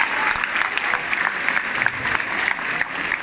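Dense, steady applause from a conference audience at a motivational talk, many hands clapping together in a continuous wash with no voices over it.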